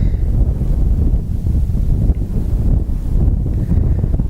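Strong wind buffets the microphone on an exposed hilltop near Dungeon Hill, a loud continuous low rumble with gusty swells and no pauses.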